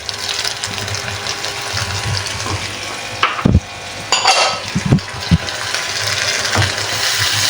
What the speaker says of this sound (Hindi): अब मैं टमाटर का पेस्ट डाल दूँगी।